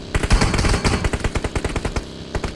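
Rapid machine-gun spray in the mobile battle royale game BGMI, a dense run of close, loud automatic bursts with no talk over them.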